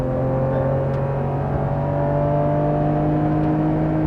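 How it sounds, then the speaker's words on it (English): Inside a Lexus GS300 on the road, the engine pulls through the rev range with a loud, steady, slowly rising whine and drone that lasts the whole moment, with no voices. "the high, like it pulls through the rev range too."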